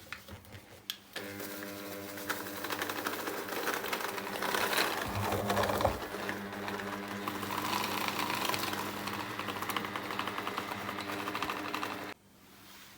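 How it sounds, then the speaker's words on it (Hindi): Electric mixer whirring through spiced minced beef for homemade burgers, a steady motorized drone with rhythmic churning that starts after a short pause and stops sharply near the end, fairly quiet and close. "हम इसको दोबारा से मिक्स करेंगे अच्छी तरह से मिक्सर से।"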